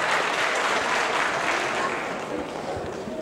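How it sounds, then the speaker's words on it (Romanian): Audience at a folk ensemble show claps in sustained, even applause, a dense wash of hands at steady volume that eases slightly toward the end, with some voices mixed in. "Puteți să aplaudați, deci nu mă opresc dacă am zis să aplaudați."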